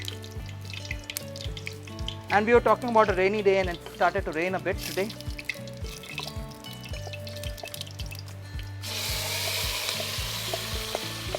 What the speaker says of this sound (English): the ghee is hot enough now, so we'll add some jeera. It starts, kind of sizzling